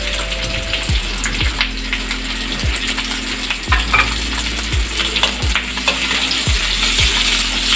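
Onion and capsicum sizzle steadily in a hot pan, with a regular run of sharp spatula knocks and scrapes against the metal every second or so, close and fairly loud.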